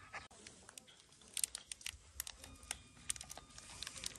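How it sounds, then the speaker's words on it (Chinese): Bread packaging is torn open by hand for a dog, faint crinkly plastic tearing and rustling in quick irregular bursts, close and quiet. "给你拿个面包吃一下，帮你拆开啊"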